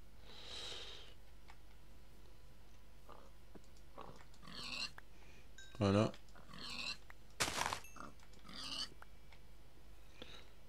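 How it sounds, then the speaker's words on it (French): Pigs in the Minecraft video game oink in short grunting bursts, a few separate calls spread through the clip, faint to moderate, with someone talking briefly over the game. "Ah, il y a des cochons."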